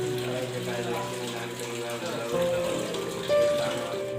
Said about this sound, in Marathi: मित्रांनो हेच ते मंदिर आहे जिथून गोमुखातून पाणी पडते